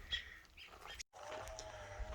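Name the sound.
birds chirping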